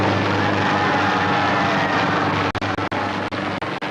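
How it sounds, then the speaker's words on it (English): A helicopter flies over a 1986 Hindu temple consecration ceremony in Livermore, dropping flowers on the crowd; a loud, steady engine drone fills the air, then cuts out briefly several times near the end. "As the helicopter flew overhead and dropped thousands of flowers on the Hindu celebrants below"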